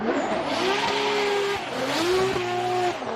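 A Nissan S15 drift car on Falcon Tires, qualifying at a drift event, revs loudly as its tires squeal and skid, the engine note rising and falling in two surges close by.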